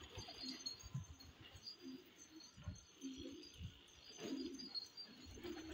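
Domestic pigeons on a rooftop coo in soft, low repeated calls, several birds murmuring close by in an uneven rhythm, with faint chirps and light background noise.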